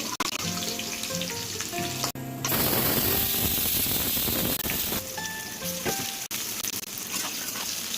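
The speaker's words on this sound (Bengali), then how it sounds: "তাহলে একটু নুন দিয়ে এই ফ্লেভারফুল তেলটার মধ্যে আলুগুলোকে ভেজে নিতে হবে" Potatoes sizzle steadily in hot oil flavoured with dried red chilli and bay leaf, with a little salt added. The loud, dense, crackling hiss runs the whole time over a faint melodic backing.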